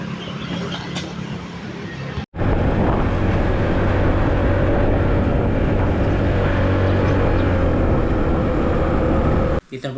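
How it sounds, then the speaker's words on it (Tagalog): A motorcycle rides home, its engine and the wind roaring loudly and steadily close to the microphone, with sharp cuts at both ends of the ride. "Kaya natin sa motor."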